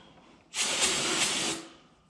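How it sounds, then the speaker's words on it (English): A single close burst of aerosol brake cleaner sprayed on a Toyota 7.5-inch IFS differential part hisses loudly for about a second, then cuts off and fades, with quiet background before and after. "Just give it a spray of brake cleaner."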